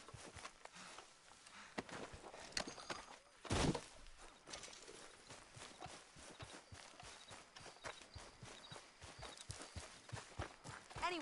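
In Red Dead Redemption 2, a horse's hooves clip-clop in a steady rhythm on the ground, quiet but continuous, with one louder crash partway through and no talk.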